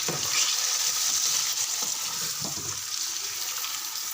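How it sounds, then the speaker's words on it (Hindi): Chicken pieces fry in a pan with ginger, garlic and softened onions. Loud, steady sizzling hiss runs throughout, with a few soft knocks of stirring near the pan. "अब हम इसमें डाल देंगे चिकन। चिकन को अच्छे से फ्राई करेंगे।"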